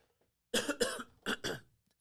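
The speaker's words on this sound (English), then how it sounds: "That's a moist cough." Two pairs of wet, chesty coughs break out close by after a brief silence, each burst loud and phlegmy.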